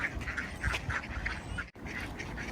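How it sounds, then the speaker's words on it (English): Ducks quacking noisily in a group while being fed at a riverside, a steady run of overlapping calls close by that never let up. "When I'm feeding the duck,"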